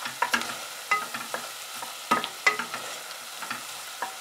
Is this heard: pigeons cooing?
no